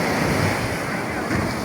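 Sea waves roar loudly at Sugandha beach, Cox's Bazar, at night, a dense, continuous surf wash with wind rumble and no talk.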